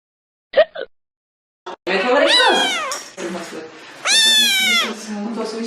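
A house cat meows loudly in a few drawn-out, wavering cries, close up after a brief rustle, with the second cry louder and higher.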